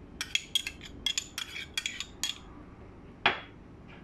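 Raw almond butter, maple syrup and coconut oil go into a food processor bowl, heard as a quick run of close clinks and taps of utensils on the container followed by one louder knock, with no talking.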